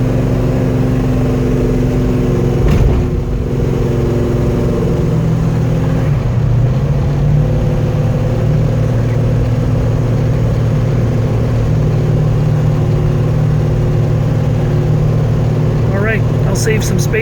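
A 1967 Chevy Chevelle 427 SS, frame-off restoration, rumbles steadily on a test drive with a low, continuous engine drone and a brief rise in revs, heard from inside the car with voices talking over it.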